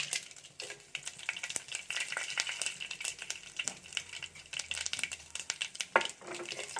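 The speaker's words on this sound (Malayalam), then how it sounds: "കടുക് നല്ലോണം പൊട്ടി വരുമ്പോൾ ഇതിലോട്ട് നമുക്ക് ഒരു 2 വറ്റൽമുളകും അത് കീറിയിട്ട് കൊടുക്കാം." Quiet, crackling sizzle of mustard seeds spluttering in hot oil, with rapid irregular pops close by and no voices.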